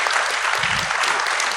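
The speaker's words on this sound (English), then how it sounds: "Please give them a big round of applause for the panel discussion." Audience applause following a panel discussion at a sustainability financial disclosures event, dense steady clapping filling the whole brief moment with no voices over it.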